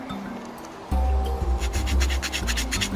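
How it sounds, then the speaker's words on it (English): A small hand saw rasps a nock groove into the end of a wooden arrow shaft, quick back-and-forth strokes loud and close after a short quieter start. "And just gently saw."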